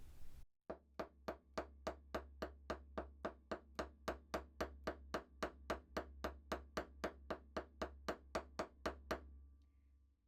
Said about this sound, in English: I'm going to be hammering on this side